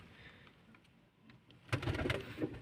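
Soft, low pigeon coos close by, then a sudden burst of rustling and scuffling noise.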